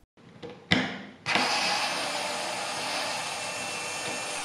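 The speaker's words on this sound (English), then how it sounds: "see what the Torx semi-auto screwdriver can back out" A Worx semi-auto electric screwdriver backs out screws with a sharp click, then a steady, loud motor whir that runs unbroken to the end, close by and with no talk.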